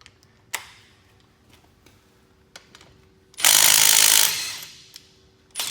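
An impact wrench breaks a bolt loose with no Tite-Reach extension fitted, giving one loud, close hammering burst about a second long. Faint clicks and handling noises come before and after it.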